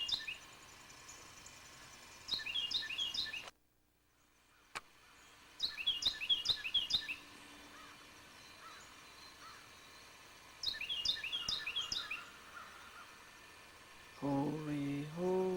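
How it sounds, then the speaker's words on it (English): A small bird chirps outdoors in three separate bursts of quick, high tweets against quiet background hum, fairly close, with a brief voice near the end. "There's Tweety Bird."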